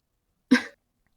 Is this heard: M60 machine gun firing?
no